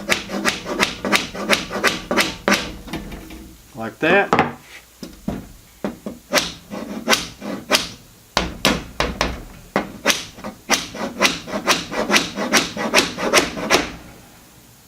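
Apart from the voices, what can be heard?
hammer tapping nail held in pliers into wood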